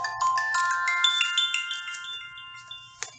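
A phone ringtone plays a bright, chiming melody of clear descending and rising electronic tones, loud and close, continuing for about three seconds without speech.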